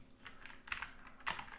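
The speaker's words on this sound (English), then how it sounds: "I will go to google.com and I will write Mongodb" Typing on a computer keyboard, a short quiet run of light clicking keystrokes in uneven clusters, with no voices.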